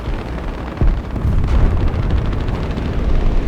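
Bombs exploding in the War Thunder video game, dropped from a P.108B bomber onto ground vehicles: a sudden heavy blast followed by a sustained loud rumbling roar, alone with no voices.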